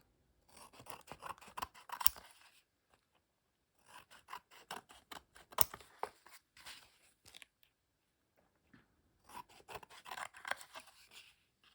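Scissors cut cleanly through craft material in three separate bursts of crisp snipping, close and quiet, with silent gaps between the bursts.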